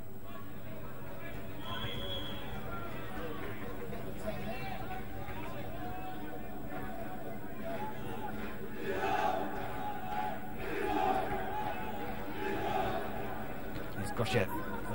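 Home crowd at a football match between Macedonia and an opposing side, a distant, steady stadium murmur that swells into louder cheering bursts near the end, with a commentator talking over it.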